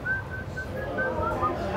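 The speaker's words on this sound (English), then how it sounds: "He whistled the melody." Someone whistles a song melody in short, clear notes with small gaps between them, heard over a low murmur of room noise.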